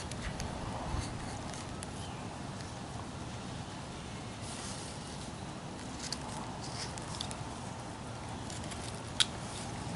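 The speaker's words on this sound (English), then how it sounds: "Starting to rain a little bit here." Light rain begins falling outdoors as a steady, soft patter across the whole stretch, with a few faint ticks and no voices.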